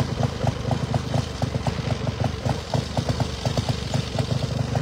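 Small motorized ultralight aircraft engine with a rear-mounted motor idles before takeoff, a steady rapid clattering putter that pulses evenly and stays close and fairly loud throughout.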